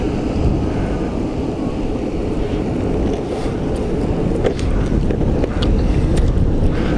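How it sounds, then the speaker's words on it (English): Wind buffets a shotgun microphone fitted with a furry windscreen outdoors, a loud, steady low rumble with gusty swells and occasional crackles over about seven seconds, with no speech. "It's getting windy here"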